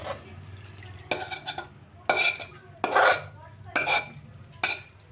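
A utensil stirs tamarind tempering in a metal pan in five or six distinct bursts of scraping and clinking, spaced about a second apart and close by, over a faint low hum.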